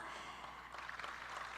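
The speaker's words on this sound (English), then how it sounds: "can I have a big round of applause" An audience in a conference ballroom applauds, a faint, dense patter of clapping building slightly over a couple of seconds.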